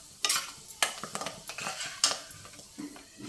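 Dried fenugreek leaves deep-frying in oil, a soft sizzle under repeated sharp clinks and scrapes of a metal ladle against the pan, no voices.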